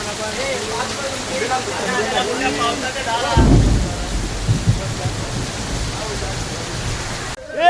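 Heavy rain pours in a dense, continuous hiss, with people talking over it and a deep thud partway through.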